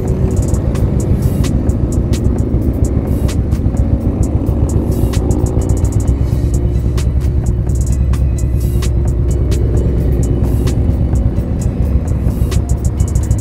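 Motorcycles riding past at Daytona Speedway during Destination Daytona, a steady loud engine drone with continuous rumbling and repeated sharp transient ticks, heard from close by without talk.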